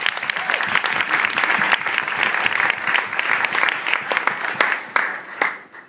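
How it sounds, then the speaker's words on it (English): Wedding guests applaud for about six seconds, a dense, steady clatter of many hands that tapers slightly near the end. "Can we give a round of applause again?"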